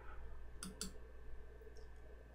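Two quick computer mouse clicks close together, faint and crisp against quiet room hum, with no talking.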